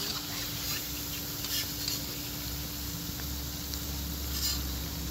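Masoor dal pakoras sizzle steadily while frying in hot oil, a continuous soft crackling hiss with a faint low hum beneath it.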